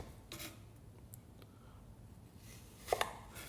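A sharp knife cutting straight down through food on a chopping board, with a few soft, faint taps spread out and a pair of crisp knocks near the end, quiet and close.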